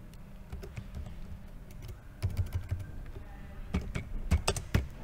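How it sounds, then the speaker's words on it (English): Typing on a computer keyboard while entering a file name in a Google Docs document: quiet, irregular key taps, sparse at first and then quicker clusters of clicks, close and unaccompanied by speech. "I'm going to type in"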